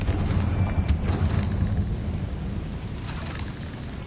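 The Confringo explosion spell blasting in the video game Hogwarts Legacy makes a heavy, rumbling boom. Dense, loud low-end roar carries through the whole stretch, with a couple of sharper crackling bursts on top.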